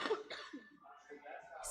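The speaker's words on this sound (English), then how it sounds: "Last little bit of that cough I got going on." A single short cough near the microphone, followed by a brief throat clear, with speech around it.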